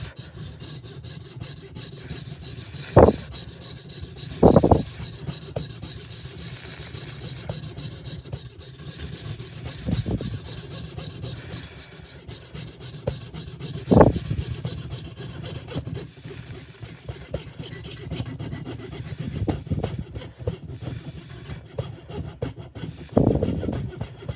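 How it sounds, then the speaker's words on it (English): A hand saw cuts through wood, its back-and-forth strokes coming as a few separate rasping bursts spread irregularly over a quiet background, with no one talking. "Kind of working the saw back and forth, side to side."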